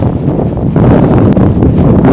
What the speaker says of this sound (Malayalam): ഇപ്പൊ ഒരു കാറ്റടിക്കുന്നുണ്ട്